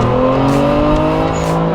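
Kia Stinger GT held at full throttle, a loud, steady engine drone close by with brief airy hisses of the blow-off valve venting between pulls.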